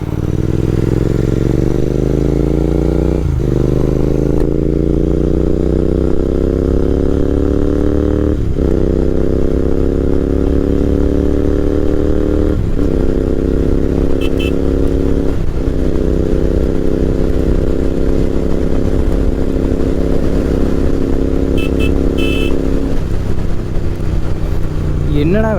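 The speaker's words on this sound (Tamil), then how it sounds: "இந்த வண்டி பார்த்தீங்கன்னா 100ல் போகிறதே ஏதோ எனக்கு 50-60ல் போகிற மாதிரி ஃபீல் ஆகுதுங்க" A 2023 Royal Enfield Continental GT650 parallel-twin motorcycle, ridden at speed near 100 km/h, gives a loud continuous engine drone that climbs in pitch with dips at each gear change, with wind rush and a rider talking over it.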